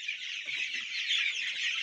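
Poultry on a small farm, a rooster among chickens, giving bright close clucking calls in a quick continuous burst with no talk.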